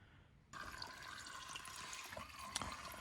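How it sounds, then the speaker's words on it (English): CVT transmission fluid drains from a 2016 Honda HR-V on jack stands: a steady wet trickle and splash starts abruptly after half a second and runs on evenly, close by. "You can hear the dripping sound on the side."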